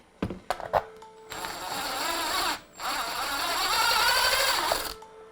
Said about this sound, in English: we're going to use our trusty step drill bit.